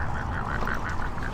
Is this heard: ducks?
yes